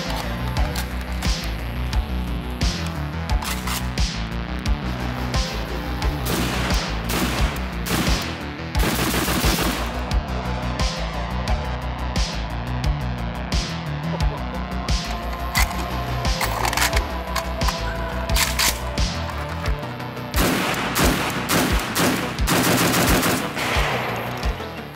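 A PSL rifle chambered in 7.62x54R fires loud, sharp shots, first singly at a steady pace and then in faster clustered strings near the end, heard up close outdoors.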